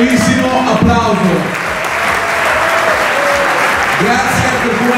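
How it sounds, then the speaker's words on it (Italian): A team at a movie-making team-building event applauds steadily for about five seconds, a loud sustained clapping that swells slightly at the start and end, with a few voices mixed in. "fatevi un bellissimo bellissimo applauso"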